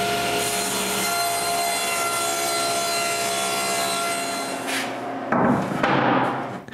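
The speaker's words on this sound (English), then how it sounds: "Now that the glue is dry, I can sand the top and cut it to the right dimensions." Wooden bench top being worked with a power tool while a maple edging is prepared for a bandsaw base, a steady loud mechanical whir with dense harmonic hum running for several seconds, then breaking into rougher bursts of cutting near the end.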